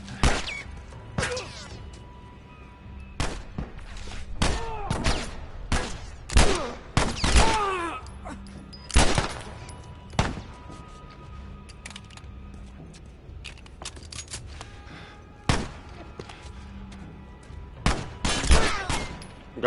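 Gunfire in The Last of Us Part 1, scattered sharp shots and short bursts at irregular intervals through a tense fight, some close and loud, others softer, with occasional voices between them.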